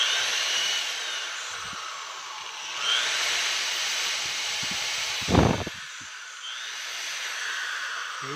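An electric drill bores holes around a part while making an automatic check valve, a continuous high whirring close by with slight changes in pitch and a brief louder grinding burst partway through, with no voices.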